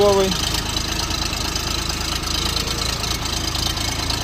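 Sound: three-cylinder rear-wheel-drive Xingtai 240 tractor engine idling

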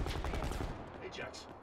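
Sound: sniper rifle gunfire in video game Black Ops 4

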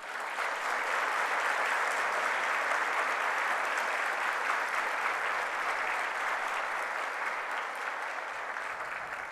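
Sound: applause at a graduation ceremony

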